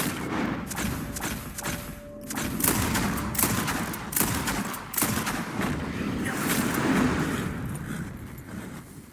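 Several gunshots crack out in Red Dead Redemption 2 during a rabbit hunt, irregular thumping reports spread over the clip against outdoor ambience.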